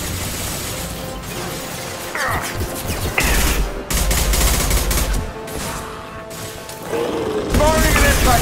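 An impact gun fires during a Blue Suns attack in the video game Mass Effect 2: loud rapid bursts and crashing blasts over dense battle noise, with people talking over the action.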